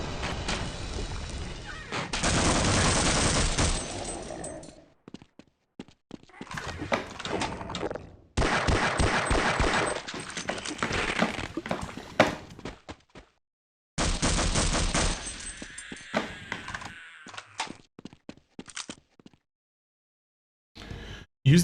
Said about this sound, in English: Use the assault rifle alt.